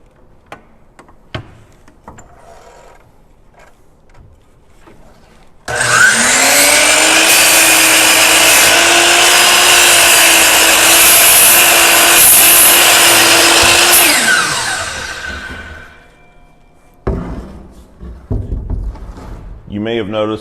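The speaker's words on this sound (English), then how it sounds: "Then we're going to take this to the chop saw and cut it." A chop saw spins up with a loud whine and bites through a wooden 2x4 for about eight seconds, then winds down, with quieter handling knocks and a voice before and after.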